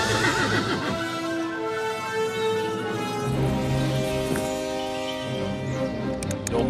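Horses drawing a coach: a loud, drawn-out whinny rings out over a rumbling background, followed by further neighing and a faint clatter of hooves near the end.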